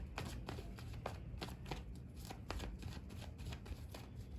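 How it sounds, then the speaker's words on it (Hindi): Tarot cards being shuffled by hand, a continuous run of quick papery riffles and flicks in a steady rhythm, close and fairly quiet, with no talking. "जब तक मैं कार्ड शफल कर रही हूँ"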